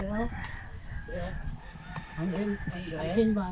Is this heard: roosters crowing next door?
yes